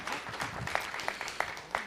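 Brief, thin applause for an emergency manager at a city council meeting, a few scattered claps over a low room murmur.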